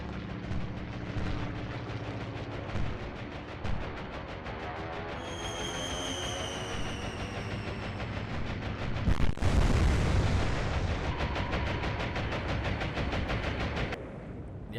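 Naval anti-aircraft guns firing in the Atlantic Fleet naval warfare game, a dense run of rapid booming bursts and explosions over a rumbling battle bed, with one heavy blast near the middle.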